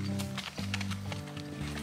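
A horse walking with hooves clip-clopping in a short, uneven rhythm, fairly close and moderately loud over a steady low background hum.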